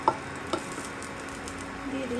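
Dried fenugreek leaves (kasuri methi) are dropped into hot oil with potatoes for tempering, producing a soft steady sizzle broken by a few light taps of a stirring spoon.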